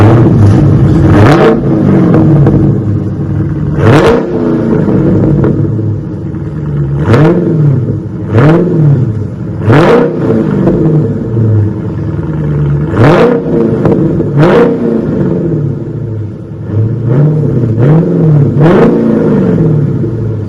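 A 2019 Dodge Challenger engine with its mid mufflers removed and Walker race bullets fitted revs again and again from a cold idle, sending loud, close, repeated blips over a deep, steady rumble.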